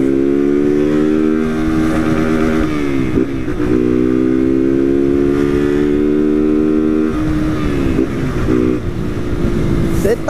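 A motorcycle engine runs steadily and loud close by, its pitch dropping in several steps as it slows and gears down, then holding and easing off again.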